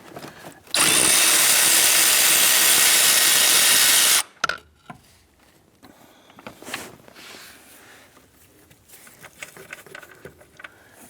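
A power tool whirs loudly and steadily for about three and a half seconds, removing a 13 mm nut from a bracket on a 2008-2013 Nissan Rogue HVAC blower motor assembly, followed by clinks and scraping of parts being handled.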